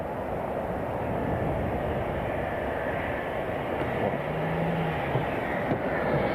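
A Cargolux Boeing 747-400 freighter at Miami International Airport gives a steady, loud broadband jet roar that holds evenly throughout, with no voices over it.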